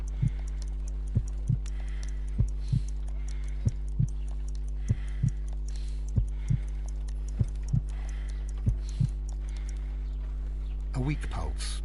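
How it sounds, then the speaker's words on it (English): A slow heartbeat in the Sherlock Holmes: Crimes and Punishments video game, with soft regular thumps about one a second over a steady low drone, and a brief noisy burst at the end. "I need to concentrate and count the heartbeats."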